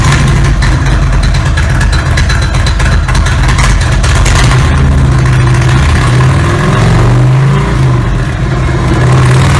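A Thunder Stroke 116 cubic inch engine with a Stage 3 big bore kit runs on a dyno, a loud, steady, close mechanical drone with heavy low rumble that swells and shifts pitch in the second half as the revs climb.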